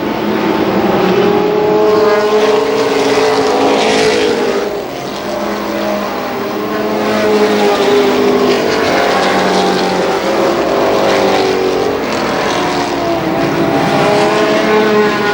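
Race cars at Columbus Motor Speedway during a 1995 Race of Champions roar continuously and loudly around the track, their engines droning and swelling as the pack passes, with no voices in the clip.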